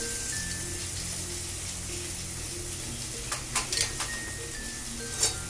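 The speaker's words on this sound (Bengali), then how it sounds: "দিয়ে এটাকে একটু ভালো করে ভেজে নেব" Chopped tomato frying in a pan with onion, garlic and green chilli for shim bharta, a close, steady sizzle. Several sharp scrapes and taps of a spatula come near the end.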